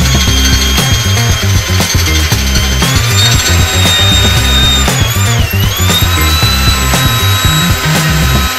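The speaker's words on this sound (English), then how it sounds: "Drill tends to hang up, but just be patient with it." A power drill boring into a broken bolt, held at an angle and working slowly, runs as a loud, steady whine with a grinding, uneven undertone throughout. No one speaks.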